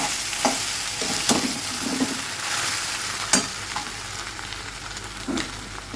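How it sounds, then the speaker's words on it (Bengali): Spices being stirred and fried in a troublesome wok for a fish-head curry, with a constant sizzle broken by several sharp scrapes and clanks of the spatula against the metal, close and clear, with no talking. "মশলা কষানো, দেখো কড়াইটা কি জ্বালাতন করছে।"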